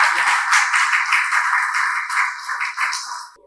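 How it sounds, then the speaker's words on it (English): An audience at a startup and investor event gives a round of applause. The clapping is brisk and continuous, sounds thin and bright, and tapers off at the end without any speech over it. "I want to give you to give him a very special round of applause."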